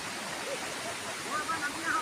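A hill stream flows near a picnic spot with a broad, constant rushing wash that stays steady and fairly close, with faint voices in the background.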